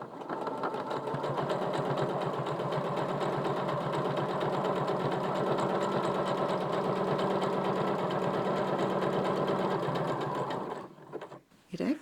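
A sewing machine stitches two butted-up quilt pieces together for a cushion cover, its rapid, even mechanical whirr running close and continuous for about eleven seconds before stopping with a few handling clicks.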